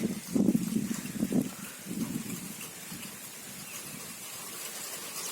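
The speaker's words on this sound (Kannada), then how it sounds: "ಅದ್ದೂರಿಯಾಗಿ ಮಳೆ ಆಗ್ತಾ ಇದೆ" Steady hiss of heavy rain falling on the hilltop of Anumale Mahadeshwara temple, with a few low muffled thumps near the start before settling into a constant wash.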